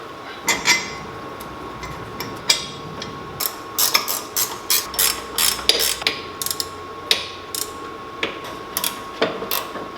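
A ratchet clicks in short repeated bursts while tightening bolts on a custom motor mount for a K-swapped AE86, with close, sharp metallic ticks and a few pauses between strokes.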